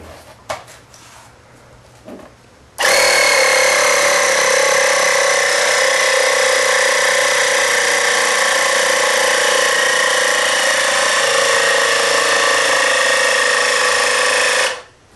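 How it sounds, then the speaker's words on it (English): An air compressor pressurizes a homemade nerf gun, starting abruptly after a few quiet seconds with faint knocks, then running as a loud, steady droning roar with a tonal whine for about twelve seconds before cutting off. "I'm going to attach it to my air compressor and put it in the cooler for safety precautions"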